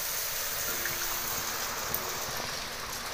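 Water rinsed from ground spice paste poured into a pot on a wood-fired stove, a soft continuous trickling pour under faint background hiss, fairly quiet and without talk.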